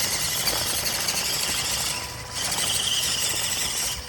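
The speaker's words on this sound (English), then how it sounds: "wheel spinning already" The small electric motor of a WPL C34 RC crawler whines in a high-pitched squeal as its wheels spin on a climb, steady and close, dipping briefly midway before resuming.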